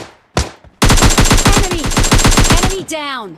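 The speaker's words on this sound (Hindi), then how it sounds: "हाँ भाई सुनाई दिया, मतलब कि कोई फायर कर रहा है" Gunfire in PUBG Mobile Lite: one sharp shot, then a long rapid automatic burst of about twenty loud, close rounds, ending with a short metallic, ringing tail.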